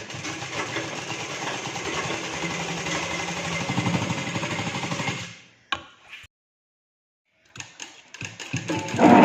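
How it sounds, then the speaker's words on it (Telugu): A sewing machine runs steadily for several seconds stitching a folded Punjabi dress seam, a fast even mechanical chatter that stops abruptly, falls silent, then starts again briefly. "ఇట్లా ఫోల్డ్ చేసి ఒక స్టిచ్ అయితే వేసుకుంటూ వెళ్ళాలి."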